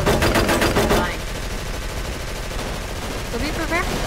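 Rapid machine gun fire in the Call of Cthulhu video game, a dense rattling burst for about a second, then a steady background din with fainter scattered shots near the end.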